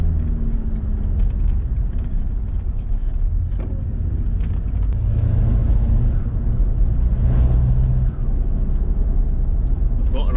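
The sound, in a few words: Mitsubishi L200 diesel engine oil noise under boost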